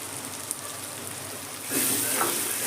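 Chopped onion and crushed garlic frying in oil, a soft hissing sizzle that grows slightly louder partway through, with no voices.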